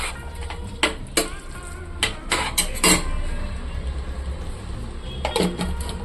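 A utensil scrapes and clinks against a metal pan while stirring tomato chutney, in irregular bursts, with quieter stirring noises between the sharper knocks.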